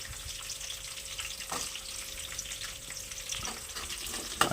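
Onions and green chillies fry quietly in a pan while wheat rava upma is being made, giving a soft, continuous sizzle with a few faint clinks and a brief knock at the end, no voices.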